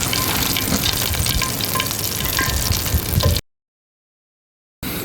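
Catfish frying in hot oil makes a loud, dense, crackling sizzle that runs steadily for about three seconds, cuts to silence, then briefly returns.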